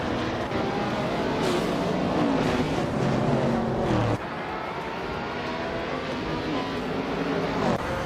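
A 1973 Porsche 917/30 Spyder racing at Mid-Ohio in a racing game, its engine roaring loudly and steadily with shifting pitch, a brief drop in intensity midway before the loud drone resumes.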